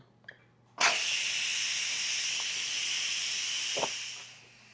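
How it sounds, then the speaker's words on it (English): A pressure cooker's valve, switched to venting after cooking white beans, bursts into a loud, sustained hiss of escaping steam that holds for about three seconds before tapering off. "there's going to be a lot of steam coming out."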